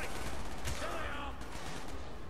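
Gunfire from a Sten gun in Call of Duty: Black Ops, a spray of shots over busy game background noise, with the shooting clustered near the start.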